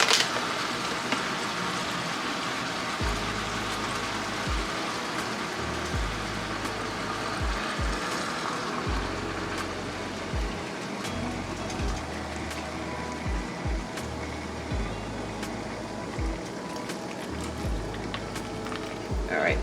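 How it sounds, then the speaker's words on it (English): Water poured into a pan of pork steaks seasoned with Goya Sazon, a steady sizzling and bubbling hiss throughout with low pulsing rumble, a voice talking over it at times. "we're going to add in just a little bit of water"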